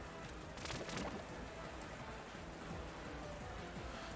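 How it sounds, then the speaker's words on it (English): Steady rain weather effect from Pokemon Sword and Shield plays as a constant hiss of falling water, even and continuous throughout with no talk. "as long as I keep the rain up"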